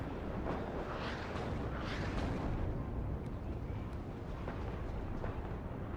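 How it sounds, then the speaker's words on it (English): Mortar shells exploding in the war strategy game WARNO, a steady rumbling barrage of muffled blasts with repeated impacts layered over one another. "There go the mortar shells coming in against Lathans as well"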